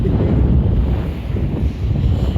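Strong seaside wind on a winter day buffets the microphone in a steady low roar, with faint surf-like rushing underneath and no voices.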